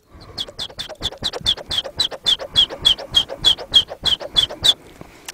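A voice imitates bird calls: a rapid series of about seventeen high, chirping whistles with throaty undertones, steady and close, with no other sound.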